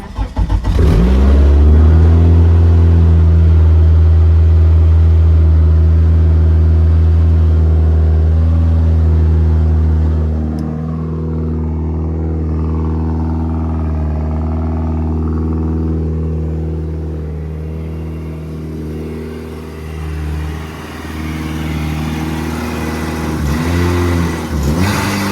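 A Mitsubishi Eclipse SRT4 engine running on a MegaSquirt engine computer idles loudly and steadily up close, with revs rising at the start and again near the end.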